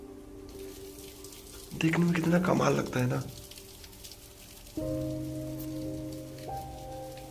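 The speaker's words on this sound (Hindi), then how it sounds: "इसके ऊपर से ये बारिश का गिरता हुआ छोटा सा झरना" Small rain-fed waterfall splashing at Sinhagad fort, a steady close wash of falling water running the whole time, partly under a person talking and some brief tonal sounds.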